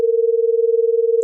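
A steady pure tone from a physics beats simulator pulses evenly in loudness about a dozen times, a smooth wavering hum resembling a phone ring that stops abruptly at the end.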